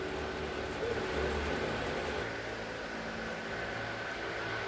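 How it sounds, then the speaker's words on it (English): Steady broadband hum of a household air conditioner fills the scene, with low rumbling traffic noise underneath, continuous and fairly constant throughout. "Excuse the background noise, please. That's my generic AC going on here and traffic."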